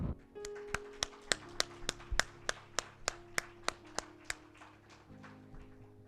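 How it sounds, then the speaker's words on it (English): A single person clapping slowly and steadily at a memorial celebration of life, about a dozen crisp, evenly spaced claps, close and alone with a low hum underneath. "So I'm just going to start with a round of applause for the life and legacy of Miss Gwendolyn Foy."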